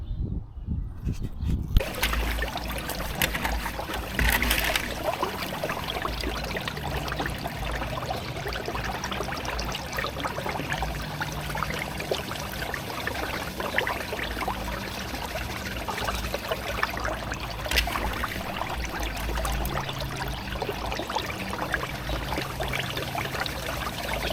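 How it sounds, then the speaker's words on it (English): Gold-bearing material from a nugget bucket washed through a home sluice, a steady close wash of running and trickling water with splashes that carries on throughout without pause. "we're going to run this stuff through through my home sluice"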